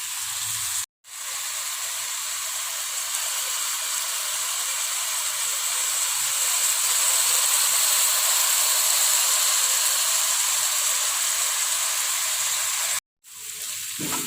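Young papaya vegetable filling for pempek pastel cooks in a pan over medium heat, giving a steady, close sizzling hiss. It runs almost unbroken, with two brief silent gaps near the start and the end, and no talking.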